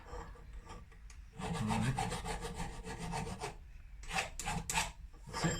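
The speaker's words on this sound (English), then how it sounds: "flattening this off now with different grades of sandpaper to build it up" Sanding a surface flat with successive grades of sandpaper on a TriBSA motorcycle build, a steady close rasping rub that quiets briefly and then returns in strong back-and-forth strokes.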